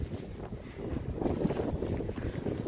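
Strong wind gusts buffet the microphone beneath a Vestas V90 2 MW turbine at the Groß Hehlen/Hustedt wind farm, a loud, steady, rumbling roar with no voices.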